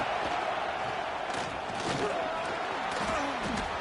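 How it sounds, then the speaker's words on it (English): A college football stadium crowd roars steadily on fourth down as the home fans try to lift their defense, a dense, continuous wall of cheering with shouts rising over it throughout. "Fourth down, and this crowd trying to help this defense rise to the occasion"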